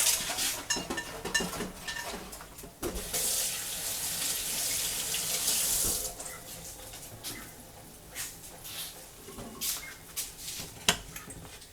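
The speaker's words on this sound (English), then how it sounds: "Wash my hands." Water runs from a tap with splashing and rubbing as hands are washed, and dishes clink faintly nearby.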